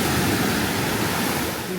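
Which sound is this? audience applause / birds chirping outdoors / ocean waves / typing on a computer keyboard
ocean waves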